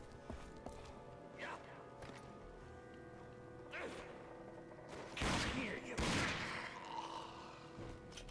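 Several gunshots crack out in the survival video game ARK, with two loud, close bursts standing out among scattered fainter shots and ambient game sounds.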